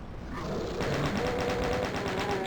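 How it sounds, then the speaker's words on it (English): Chaingun firing in the Doom map Dystopia, a fast, steady rattle of evenly spaced shots that starts after a short lead-in and keeps hammering loudly to the end. "chain gun ready, because there is a chain gunner"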